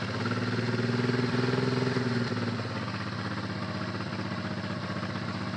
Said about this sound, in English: I'll flick the bike on to give you an impression of what's going on.